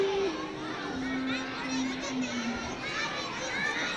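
Audience of children at a theatre musical, a steady bright murmur of many small voices chattering and calling out, close and continuous, with a performer talking over them.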